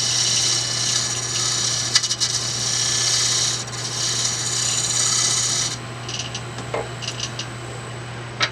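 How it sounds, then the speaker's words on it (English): A wood gouge cuts on a lathe, making a steady, close rasping and rubbing sound that runs for several seconds and then drops to lighter intermittent scrapes. "I can see where the gouge is touching."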